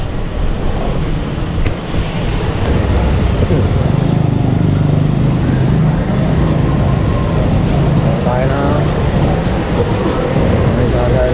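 A loud, continuous rumbling roar of an LRT light rail train running nearby in Manila's Chinatown, with wind buffeting the microphone and no clear speech.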